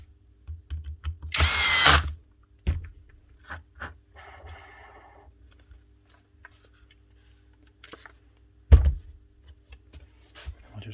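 A cordless power driver whirs in a short, loud burst while backing screws out of an 18V Bosch GHO18V-LI cordless planer, followed by quiet clicks and handling of small parts, then another brief spin later.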